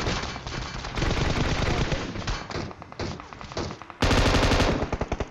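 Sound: squad firing guns in video game PUBG Mobile

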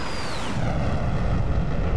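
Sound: F-14 Tomcat jet engine on full afterburner, DCS video game

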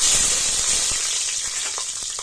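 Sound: green chillies sizzling as added to hot oil with spices

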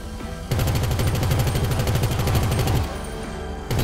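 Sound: gunfire shooting down a helicopter in GTA5 video game

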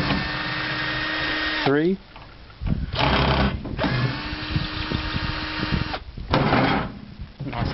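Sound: power tool removing bolts from a microwave transformer

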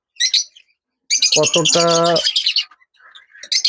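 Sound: lovebirds chirping in breeding boxes

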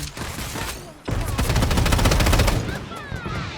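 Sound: gunfire in the video game Strinova

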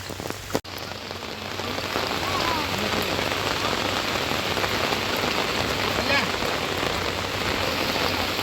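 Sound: heavy rain

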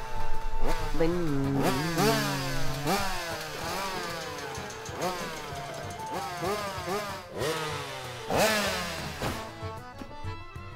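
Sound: motorcycle engine rumbling in video game Natsumon

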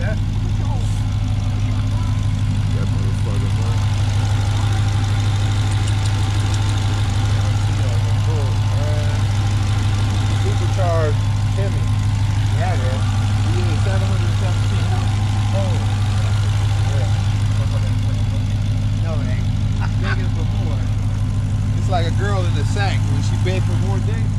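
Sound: 2019 Dodge Hellcat engine idling

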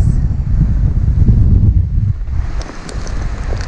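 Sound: wind and rain at sea on a boat

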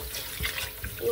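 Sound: tap water rinsing buckwheat

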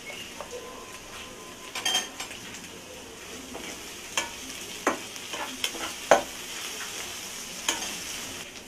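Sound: prawns frying and being stirred in a pan

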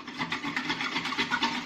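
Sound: whisking with a whisk

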